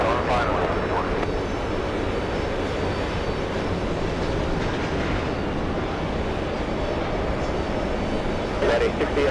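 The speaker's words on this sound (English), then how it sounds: "Let's take a peek at the C-17 Globemaster." A C-17 Globemaster crosses a runway at JFK Airport, heard as a steady, distant jet-engine roar that holds without a break.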